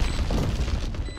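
A single loud, booming explosion in the video game Valorant bursts out and rumbles briefly before fading.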